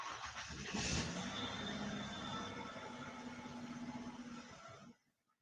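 A car engine runs steadily as the vehicle pulls out of a parking lot in Moscow, Idaho, with a rising tonal whine over broad road rumble before cutting off abruptly.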